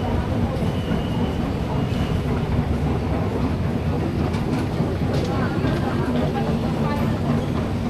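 Continuous rumble of a Kuala Lumpur MRT train in motion toward Bukit Bintang, loud and steady, with rattling and faint clicks throughout.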